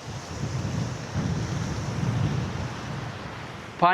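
Rushing water fills a desolate valley near Taif, Saudi Arabia, as a steady broadband roar with wind buffeting mixed in. A brief louder noise comes right at the end, and no one speaks.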